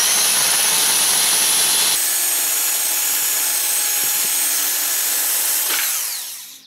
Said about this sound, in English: this is a paint stripper wheel